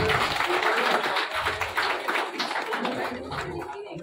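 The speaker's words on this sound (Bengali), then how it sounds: "তো জোরদার একটা করতালি করুন প্লিজ" A group gathered at a garden meet-up claps hands continuously in a busy, close patter of overlapping claps that stays fairly even for several seconds before easing slightly.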